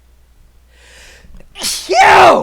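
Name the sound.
sneeze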